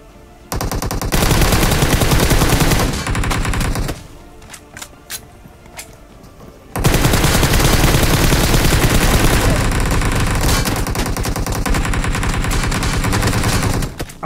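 Loud automatic gunfire in a battle royale video game: long, rapid bursts that pause briefly for a few scattered shots, then resume in sustained fire to the end.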